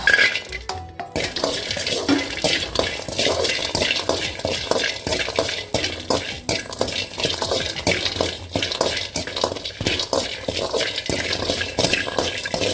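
Garlic dry-roasting in a pan for Andhra paruppu podi, with steady stirring scrapes and light crackling frying noise running continuously, close and moderately loud, alongside clinks of a utensil against the pan.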